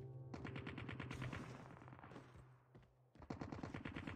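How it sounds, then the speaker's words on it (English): Rapid automatic gunfire in Call of Duty Warzone on the Alcatraz map, loud sustained bursts of shots that briefly thin out, then resume in sharp rhythmic volleys. "I think I'm getting shot at from up top."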